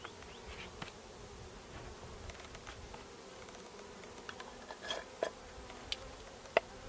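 A soft, steady buzz of many honeybees around a hive fills the background, with occasional louder passes as individual bees fly close, plus a few faint clicks.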